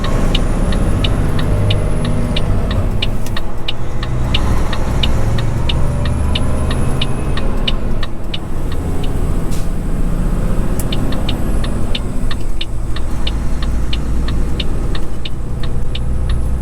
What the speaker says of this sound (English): as we start to make our way out of Darwin, we call into the weighbridge on our way past